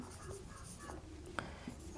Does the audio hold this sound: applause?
no